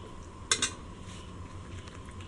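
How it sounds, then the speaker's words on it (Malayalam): Utensils clink against a pot while beef biryani masala paste is stirred, with two sharp scrapes close together near the start and then a faint background hum. "ഇതെല്ലാം കൂടെ ഒന്നുകൂടി ഒന്ന് ചൂടൊന്ന് പറ്റി വരാൻ വേണ്ടിയിട്ട് ഒരു 5 മിനിറ്റ് നമുക്കൊന്ന് ഇളക്കി കൊടുത്തുകൊണ്ടിരിക്കാം"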